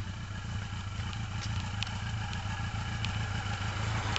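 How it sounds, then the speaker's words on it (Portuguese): A motorcycle engine idles steadily nearby, a low, even throbbing that continues throughout with faint clicks on top. "Olha o som indo andar de moto, ó."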